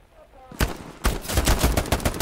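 Gunfire in the World War II shooter Hell Let Loose, a near, loud burst of rapid automatic shots firing in quick, steady succession after a quiet moment with faint voices.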